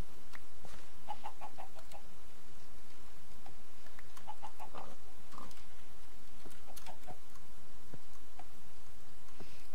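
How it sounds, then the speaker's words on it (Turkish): Minecraft pigs give short oinks and grunts in scattered bursts throughout, mixed with other farm-animal noises over a constant game background, with no talking. "Şimdi bu domuzların hepsini kesmeyeceğim arkadaşlar."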